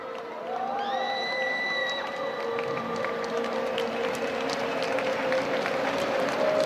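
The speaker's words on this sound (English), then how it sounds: "Here's a man who'll enjoy finishing in front of his home crowd, Rohit." Home crowd cheering and applauding at the finish of an athletics 10K race at the SEA Games, a sustained roar of voices with whoops and clapping, and a few whistles rising over it, heard from a distance.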